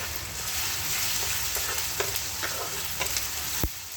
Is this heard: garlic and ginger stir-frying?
yes